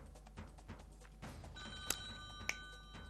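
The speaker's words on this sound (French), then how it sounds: "faites sonner maintenant ce téléphone" On a French TV game show, a telephone gives two short, faint rings over a quiet studio background, with no talk.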